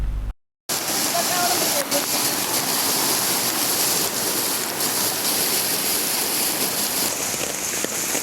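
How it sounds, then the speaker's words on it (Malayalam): Muddy rainwater pouring from a large drain pipe after rainwater pooled on excavated hill land in Kerala, a loud, steady rushing roar like a torrent, close and unbroken after a brief silent gap at the start. "വെള്ളം പുറത്തേക്ക് പോകാനായി സ്ഥാപിച്ച വലിയ പൈപ്പിലൂടെയാണ് ചെളിവെള്ളം ഒഴുകിയെത്തിയത്"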